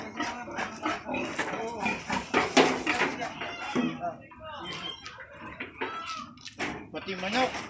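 Chickens clucking and squawking nearby, being loaded for transport, mixed with livestock noises and close voices talking over them throughout.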